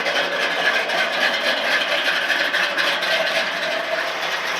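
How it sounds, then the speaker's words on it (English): A 1971 Chevrolet C20 truck idles in gear with a stock stall converter, producing a steady, loud, even engine rumble and hum throughout, with no voices. "it's sitting there in idle, load up in gear."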